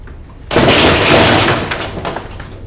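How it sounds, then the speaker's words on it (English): A chain reaction of mousetraps snapping shut and launching super balls bursts in suddenly, a dense, loud clatter of overlapping snaps and bounces that peaks early and then thins into scattered rattles. "The snapping sound you hear is caused by spring potential energy changing into kinetic"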